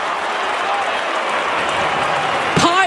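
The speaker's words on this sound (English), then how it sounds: "listen to the applause for the young gun who comes to the bench" Collingwood and Western Bulldogs fans applaud a young player heading to the bench at a 2023 AFL match, a steady, dense wash of clapping and crowd noise filling the stadium, with a voice cutting in briefly near the end.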